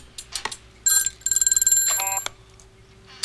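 Telephone ringing in a scene from the 1984 film Gremlins: loud, bright electronic trill bursts in two rings with a rapid pulsing rhythm, close and clear, with brief clatter before it and no talk.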